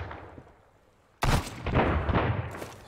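A loud gunshot in the video game Sunkenland, scoring a headshot: one sharp blast after a quiet moment, followed by echoing crackle and a further burst of shots.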